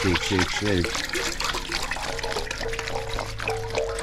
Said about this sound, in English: So I decided I gotta wash the pulp out of this stuff.